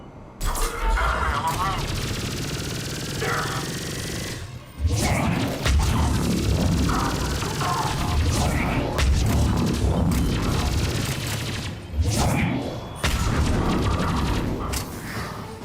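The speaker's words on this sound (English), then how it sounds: "Explosion." Video game explosions and crashing impacts burst out repeatedly amid gunfire-like clatter and whooshes in a sci-fi shooter, loud and chaotic, with players talking throughout.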